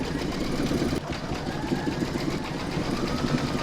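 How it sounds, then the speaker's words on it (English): An embroidery machine running decorative top stitching over satin-stitched lettering and a scalloped edge on in-the-hoop fabric bunting, giving a steady mechanical hum and rapid needle chatter at moderate volume throughout. "we're now going to stitch round number 12, and that's going to do the decorative top stitching over the satin stitch on the letter"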